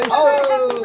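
During a family birthday celebration in Rajasthan, a few quick hand claps sound close by, three sharp slaps under a voice speaking over them.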